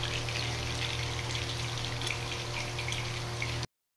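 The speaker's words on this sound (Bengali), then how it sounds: "এই যে মাছের ঝোল রেডি, অলমোস্ট ফুটে উঠেছে" A pot of fish curry bubbles near the boil, giving a faint, steady bubbling hiss that runs unbroken without talk until it cuts off abruptly.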